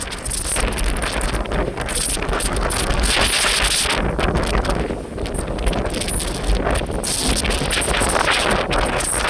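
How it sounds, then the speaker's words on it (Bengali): Strong storm wind roars across a rooftop, buffeting the microphone in loud continuous gusts with a brief lull midway. "এতটা জোরে বাতাস বইতেছে যে আমি মোবাইল ধরে রাখতে পারতেছি না"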